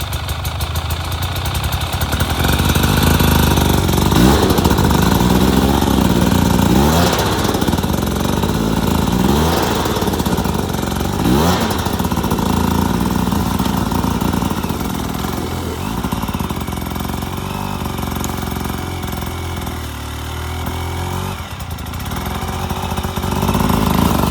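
A hard enduro dirt bike engine labors loudly up a hill, revving and bogging in repeated surges with a throaty mid-range drone throughout, close to the rider.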